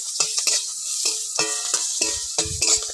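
Chopped green chili and panch phoron stirred in a hot oiled pan, a close run of scraping spatula strokes over a continuous sizzle.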